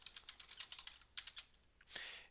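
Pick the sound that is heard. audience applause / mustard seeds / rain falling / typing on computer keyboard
typing on computer keyboard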